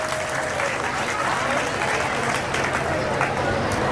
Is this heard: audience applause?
yes